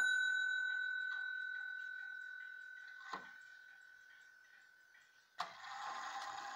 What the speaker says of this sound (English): Chime it for you one more time.